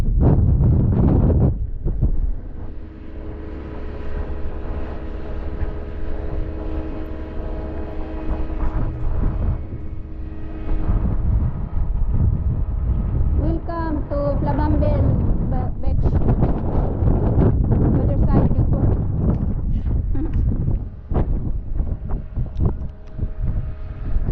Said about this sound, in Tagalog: very noisy, people, because it's so windy